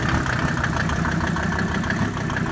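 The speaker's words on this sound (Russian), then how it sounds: "Вот не очень ровно двигатель работает" A 1999 KrAZ truck engine idles unevenly in snowy conditions, a steady close rumble with slight irregular pulsing and no voices.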